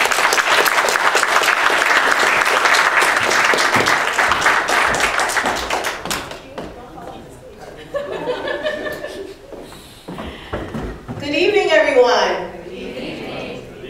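An audience applauds warmly to welcome a speaker at a public art talk, a loud, dense patter of clapping lasting about six seconds before fading, followed by scattered chuckles and a voice speaking.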